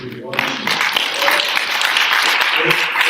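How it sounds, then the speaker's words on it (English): An audience at a town council candidate forum breaks into applause, a dense burst of clapping that goes on throughout, with a voice speaking over it. "Please hold your applause."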